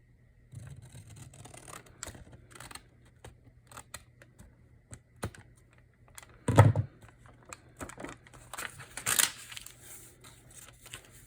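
Scissors trimming a junk mail envelope for a junk journal, a run of small close snips and paper rustles with a couple of louder cuts, no talking.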